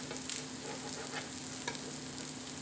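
Northern pike fish patties fry in butter in a pan, a close, steady sizzle with light crackles and a few soft scraping stirs.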